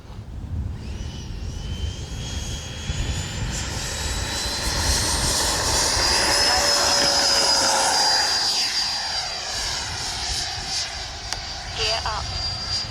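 Freewing F-22 90mm electric ducted-fan RC jet on a 6S battery taking off from a runway in crosswind, a rising turbine-like whine that swells to a loud peak and then fades as it climbs away, with wind rumble underneath.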